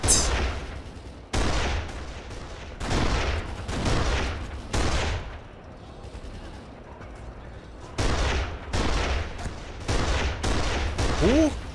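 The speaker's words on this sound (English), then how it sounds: "Who is shooting me?" Bursts of gunfire aimed at the player in the video game Kane & Lynch: Dead Men, loud repeated volleys in a rough rhythm with short lulls between them.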